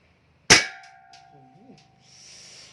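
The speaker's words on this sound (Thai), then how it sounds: "อ่ะเดี๋ยวมาลองทดสอบยิงดูนะครับ เราขึ้นลำไปแล้วนะครับ เดี๋ยวทดสอบยิงดูนะครับนะ" A single loud, sharp crack from a Glock 19 replica blank gun fired at a can, with a ringing metallic ping that decays over a second or two, then faint rustling afterward.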